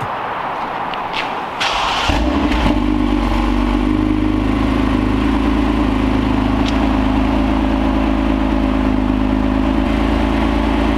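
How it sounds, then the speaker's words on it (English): A 2020 Toyota Camry TRD engine cranks and fires up, then settles into a deep, steady TRD exhaust rumble at idle, close and loud with no talking. "TRD exhaust for a Camry"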